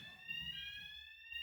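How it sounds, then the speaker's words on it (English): A fire alarm sounds as a steady high electronic tone held through the moment, fairly faint, with a low murmur of voices beneath it. "Yeah, that's a fire alarm."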